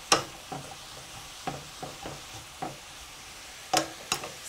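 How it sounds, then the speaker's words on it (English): Cabbage sautés in a pan, with soft sizzling and a series of light scraping stir strokes at irregular intervals, quiet and close with no talk. "the cabbage will sauté maybe about 2 or 3 minutes"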